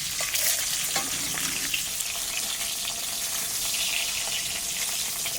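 Fried onion and dried red chili go into hot oil with mashed potato, giving a loud, continuous crackling sizzle with a little stirring, close by and without talk.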